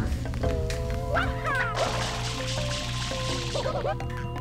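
Water spraying from the water pack in Super Mario Sunshine, a steady broadband hiss over game music and tones, continuous throughout at moderate loudness.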